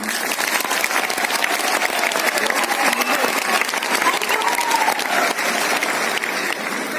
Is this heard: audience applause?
yes